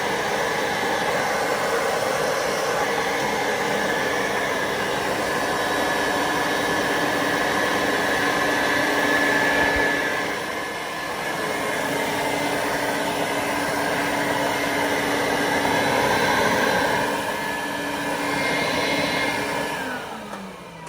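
A Quantum X upright vacuum cleaner runs with its brush roll engaged, giving a loud, steady motor whine and airflow roar that holds nearly constant, dipping slightly as it is moved, then winding down at the end.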